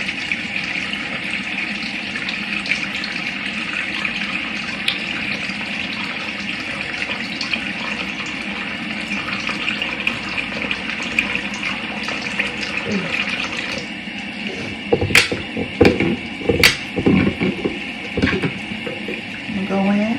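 A bathroom tap runs in a steady, close gush, then breaks into irregular splashes as water is scooped up during a morning face wash.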